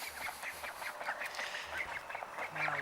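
Several ducks quack in a steady, repeated series of short nasal calls, fairly close and continuous over the whole stretch with no talking.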